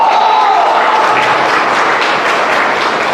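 Seminar audience claps steadily in a hall, a dense, loud burst of applause filling the whole short stretch with no talk over it.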